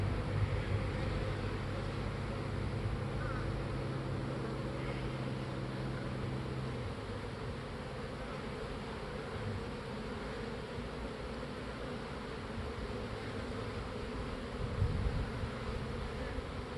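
Honey bees hum around swarm cells inside a hive, a steady low drone that fills the whole stretch, close and even, with no voices.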